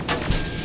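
A single heavy gunshot blast booms in the Terminator Resistance Enhanced video game, a sharp crack followed by a low rumbling tail over a short burst of combat noise.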